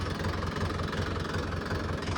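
A tractor engine idles steadily, a low rumble with a faint knocking pulse, close by and unchanging throughout.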